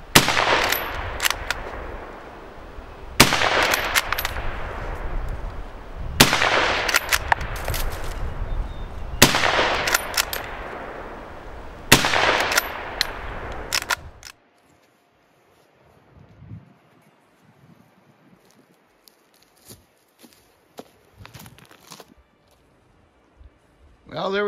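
A Lee-Enfield or 1895 Boer Mauser rifle is fired rapidly: several sharp, loud shots come in quick bursts, then fade into near-quiet with faint handling sounds.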